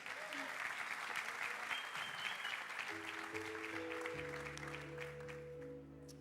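A church congregation applauds in a sustained wash of clapping that fades slightly toward the end, with a sustained musical tone entering underneath in the latter half.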